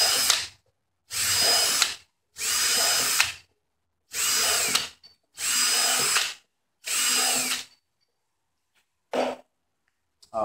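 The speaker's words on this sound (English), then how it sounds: "I just took an 1/8 inch drill bit and I'm going to put a hole all through it" A power drill with an 1/8 inch bit whirs through a plastic bumper along a crack in six bursts of roughly a second each, separated by short pauses, then a brief final spurt, close by with no talking.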